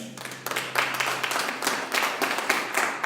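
A church congregation claps for the Lord in a short, lively burst of applause with uneven rhythmic pulses, moderately close and without talk.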